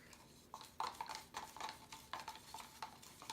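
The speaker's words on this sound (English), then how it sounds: "I'm stirring it with the other end of the black stick" The end of a stick stirs paint mixed with gloss medium in a container, giving soft, close, rhythmic scraping and tapping strokes that repeat about every third of a second, with no talking.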